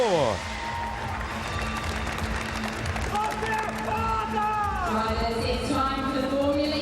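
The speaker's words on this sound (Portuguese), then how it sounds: "a torcida brasileira comemorando bastante o resultado" A Brazilian crowd cheers and applauds at the London ePrix trophy ceremony after Lucas di Grassi's win, a dense, steady roar of clapping and shouting. Talk runs over it, and a few rising whistle-like tones cut through toward the end.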